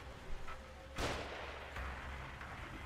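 Sniper rifle shots in a shooting video game, a sharp booming crack followed by rumbling noise, with a couple of softer thumps before it, no one talking.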